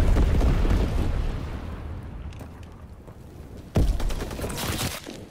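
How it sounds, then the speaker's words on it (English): Heavy rumbling incendiary bomb explosions in the video game World War II, a roaring blast fading over a few seconds, then a second sharp, loud detonation with crackling debris. "Enemy bomber approaching! Incendiary bombs incoming!"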